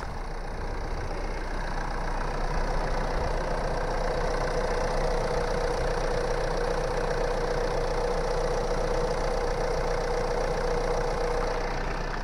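A Renault Talisman's engine idles smoothly and steadily at close range, a continuous even hum with no voices over it.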